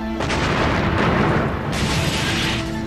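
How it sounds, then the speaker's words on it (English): A massive bomb detonating outside the US embassy in Nairobi: a loud, dense, sustained roaring blast that fills the whole span, with rumbling debris and no voices. "the air is shattered by a massive explosion"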